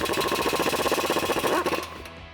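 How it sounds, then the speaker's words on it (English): A ratchet with a 15mm socket snugs down an exhaust pipe clamp on a 2015-2019 Ford F150, giving a fast, even run of close clicks for about a second and a half before it stops. "I'm just gonna snug this down just enough so this pipe doesn't move on us using a 15mm socket"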